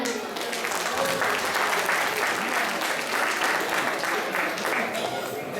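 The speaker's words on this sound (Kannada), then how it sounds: "ಚಪ್ಪಾಳೆ ಹೊಡಿರಿ ಹೀರೋಗೆ." An audience at a Rajyotsava reality-show stage event claps continuously in a dense, even burst of applause that sustains loudly throughout.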